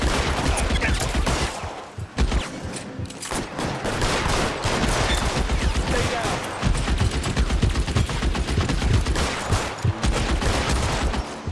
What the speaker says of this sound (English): Shot that guy in the head 3 times.